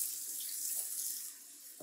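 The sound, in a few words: water running from a tap into a container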